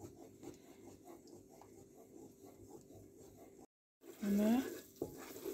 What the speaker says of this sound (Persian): من روغنو 5 قاشق آرده یعنی سرخ کردم ببین